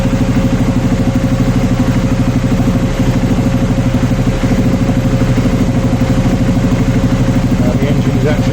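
An Aprilia Shiver 750 motorcycle sits idling with its cooling fan running, giving a steady, loud, close low-pitched engine drone with an even rhythmic pulse throughout.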